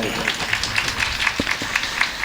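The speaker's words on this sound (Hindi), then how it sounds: "इनके लिए जोरदार तालियां बजाएं" Listeners at a devotional bhajan gathering clap in regular rhythmic bursts for the accompanying musicians, moderately loud, with a faint musical background beneath.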